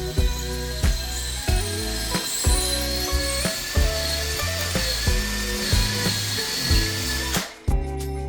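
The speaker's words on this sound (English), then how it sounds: "drilling the holes properly in the brick" A power drill boring holes into a brick wall in a home workshop, loud and close, the bit grinding in a repeated pattern of short bursts with brief pauses between, then cutting off near the end.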